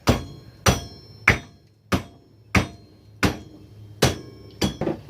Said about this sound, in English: You need a little negotiating from a hammer.